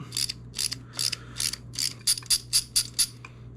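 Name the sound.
removing small bolts from Yamaha TTR125 engine top end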